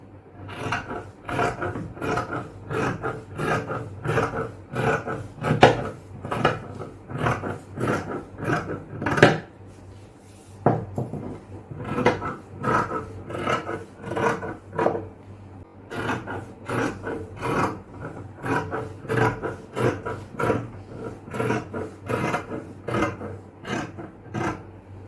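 Scissors cut through fabric being shaped for puff shorts in a tailoring workshop. Close, crisp snipping and rasping repeats in rhythmic bursts, pauses briefly, then starts again.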